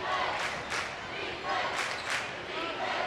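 Central Cass Squirrels fans cheering at a region championship high school basketball game, a broad crowd roar swelling in waves with sneaker thumps, under a commentator's voice.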